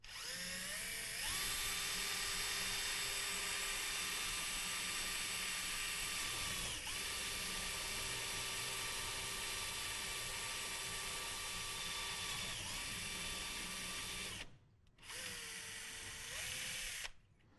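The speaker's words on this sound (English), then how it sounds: "go ahead and drill through both cortices" A surgical drill bores through both cortices of bone, a steady, loud whine that holds for about fourteen seconds, stops briefly, then runs again in a short final burst.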